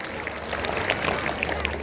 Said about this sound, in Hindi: एक बार जोरदार तालियों से इनका स्वागत कीजिए।